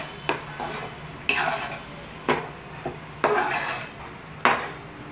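Tomato puree is stirred into fried onions in a pan for Punjabi chhole, with a spoon clanking against the pan in regular strokes about once a second. A soft sizzle runs underneath, heard close with no voices.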